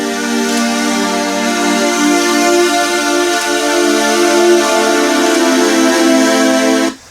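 Warm, sustained synth melody with steady chords and no sidechain ducking, a constant unpumped level that holds evenly for about seven seconds before cutting off abruptly.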